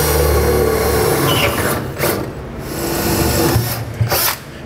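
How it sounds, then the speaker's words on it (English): A power drill with a small bit whines loudly up close while boring pilot holes up through the underside of a 2016 GMC Sierra truck bed, running in sustained bursts with brief pauses between. "we'll drill up from the bottom side. We'll go ahead and drill out our pilot holes."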